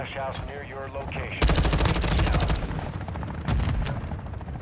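Gunfire bursts in the video game Call of Duty DMZ, a dense rapid volley of shots following a stretch of voice chat, then a second short burst, loud and close.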